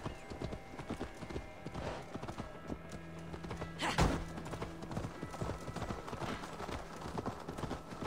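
Steady clip-clop of horse hooves trotting in a continuous rhythm in the video game Assassin's Creed Valhalla, with a brief thud midway and faint background sounds.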